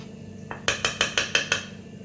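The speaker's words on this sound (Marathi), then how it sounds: "पहिले आपल्याला चमच्यानं मिक्स करायचं आहे कारण खूप गरम आहे तेल" Spoon tapping and scraping in a bowl while mixing wheat flour with very hot oil for chakli dough, six quick, evenly spaced metallic clinks close up, no talk.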